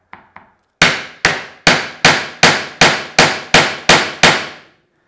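Hammer blows drive a chisel into wood while cutting to a marked line, about nine sharp evenly spaced strikes that ring briefly and stand alone after two lighter taps.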